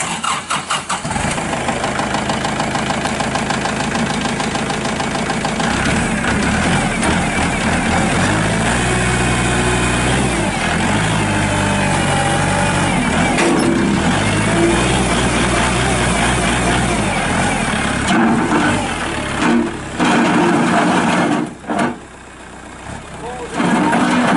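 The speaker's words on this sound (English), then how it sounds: "I'm going to go ahead, fire this tractor up." A 2018 Kubota L4701DT tractor's diesel engine cranks, fires and runs loudly at close range, its drone shifting in pitch as it revs and works before dropping briefly near the end.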